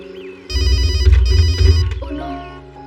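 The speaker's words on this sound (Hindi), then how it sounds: "ओह नो, मॉम का ही फोन है।" A telephone rings loudly in a repeating electronic ringtone pattern, filling the short scene, with no talk over it.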